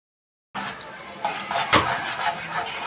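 A spoon stirs melting jaggery in a pan for sesame ladoos, giving soft scraping and light metallic clinks of utensil against pan, with a bubbling undertone and a voice speaking over it.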